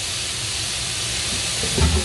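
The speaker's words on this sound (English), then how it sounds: "The meatballs and then pour a bit of water, cover it, just steam it for 1-2 minutes" Meatballs steam with added water in a covered pan, a dense, steady hiss and sizzle throughout, close and loud, with a brief louder bubbling surge near the end.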